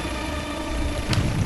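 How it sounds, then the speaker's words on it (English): A helicopter in the Hulk: Ultimate Destruction video game makes a steady low engine drone throughout, with a brief louder burst near the end. "and that's a helicopter."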